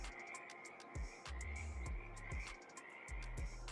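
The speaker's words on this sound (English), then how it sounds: "You should definitely hear the frogs cricking." Frogs croak near a bridge in Farming Simulator 22, a series of low, rhythmic, repeated croaks close by over a faint background of insect-like chirps, with no talking.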